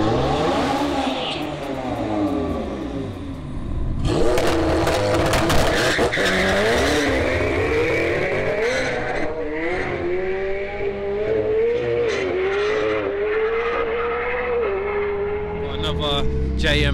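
A 1,000-horsepower tuned McLaren MP4-12C launches at Santa Pod drag strip, tyres squealing and the engine revving hard, then screaming through rising gears into the distance, with a voice talking over it.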